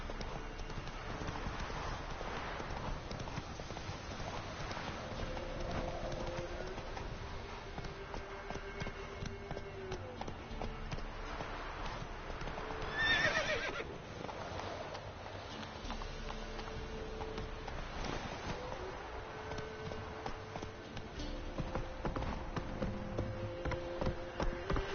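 A horse gallops in The Witcher 3: Wild Hunt, its hooves clip-clopping in a fast, steady rhythm for the whole stretch, joined by game effects and a brief louder burst midway.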